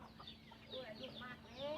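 Free-range chickens raised by an elderly woman in a rural village cluck softly and intermittently, a few close, short calls over a low steady hum, with faint voices in the background.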